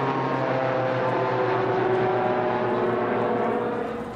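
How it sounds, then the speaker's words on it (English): Three chase planes, a Starship, an Alpha Jet and an Extra 300, make a formation flyby in the Mojave, a loud sustained engine roar with droning tones that swells and slowly fades. "The three chase planes, the Starship, the Alpha Jet, and the Extra 300, treat us to a dramatic formation flyby."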